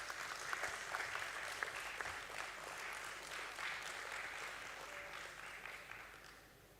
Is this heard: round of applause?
yes